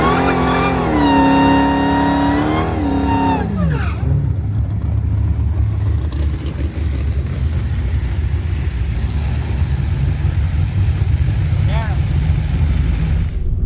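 A drag race car's engine roars loudly down a quarter-mile track, revving up through rising pitches, then settles into a sustained heavy rumble that fills the rest of the clip.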